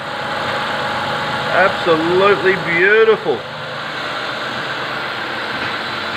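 A Ford Falcon BA engine idles steadily after an inlet manifold gasket replacement, a low continuous hum running throughout while someone speaks briefly over it in the middle.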